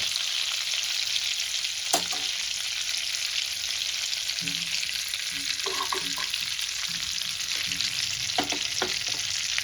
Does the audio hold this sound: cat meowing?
no